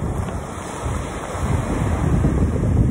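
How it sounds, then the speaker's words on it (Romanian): Waves of the Black Sea rush in and break on the shore, a broad hissing surge that builds louder toward the end, with wind noise over the microphone. "Vine valul, uite, până aici a venit."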